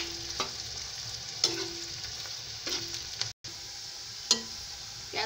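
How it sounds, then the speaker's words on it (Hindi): Onions fry in a pan with a steady soft sizzle, broken by several sharp scraping stirs of a spoon against the pan, close and moderately quiet with no voices. "प्याज को लाइट ब्राउन होने तक के इसको मैं तलूंगी।"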